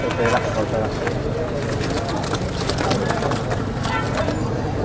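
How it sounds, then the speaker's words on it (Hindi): Pigeons at a busy Sunday pigeon market in Saddar, with soft cooing and fluttering buried under constant crowd chatter and nearby talking. "कबूतर देखे भी, और माशाल्लाह कबूतर अच्छे हैं"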